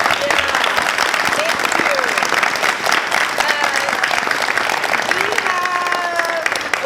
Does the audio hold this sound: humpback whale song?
no